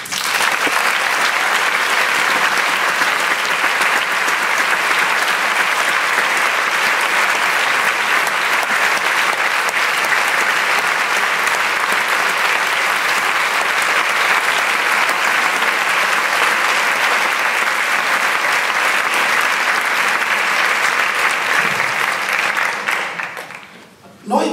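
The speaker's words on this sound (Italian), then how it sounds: "vorrei insieme a tutti noi, rivolgere gli applausi di prima a Mimmo Lucano." Sustained audience applause at a public talk, a dense, loud wash of clapping that holds steady for over twenty seconds before cutting off abruptly at the end.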